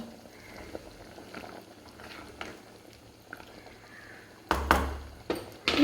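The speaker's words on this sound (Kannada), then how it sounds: "ಈಗ ನೋಡಿ ಚೆನ್ನಾಗಿ ಕುದಿ ಬಂದಿದೆ" Egg gravy boiling in a pan on a gas stove, a soft steady bubbling and popping that stays quiet, then a few louder clatters and knocks near the end.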